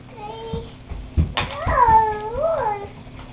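A house cat gives several drawn-out, wavering meows, close and fairly loud, with a few softer mews and some thumps around them.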